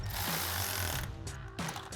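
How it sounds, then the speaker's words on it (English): Brief bursts of rapid mechanical clicking as an 8mm socket ratchet tightens a bolt on a Bronco cold air intake, two short runs of close, fairly faint ratcheting with no talking. "We'll take an 8mm socket to tighten that one down."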